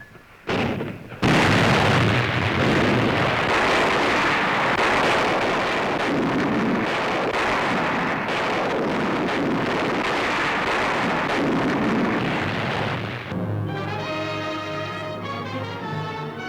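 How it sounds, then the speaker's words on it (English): Anti-aircraft batteries firing from ships in a WWII newsreel, a loud, dense roar of bursts and explosions that runs on for about twelve seconds before giving way to music. "Anti-aircraft batteries open up, a powerful contribution to the United Nations navies."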